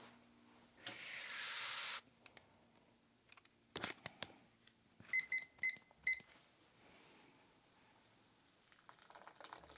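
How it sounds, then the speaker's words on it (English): A kitchen timer sounds during a coffee cupping session, first as a loud continuous tone for about a second, then as four short sharp beeps in a quick, evenly spaced row, with soft handling noises around them. "Oh, timer."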